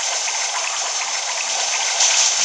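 Bubble Beam water attack in Pokémon Ultra Sun, a loud, steady gushing spray of water with a fizzy bubbling hiss throughout and no talk.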